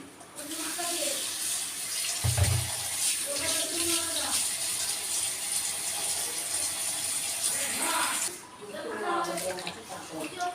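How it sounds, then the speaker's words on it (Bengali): Running tap water splashes steadily while raw meat is washed at a sink, with faint handling noises. A brief low thump comes early, and a voice speaks over the water at times. "প্রথমেই আমি মাংসটা একটু ভালো করে ধুয়ে নেই"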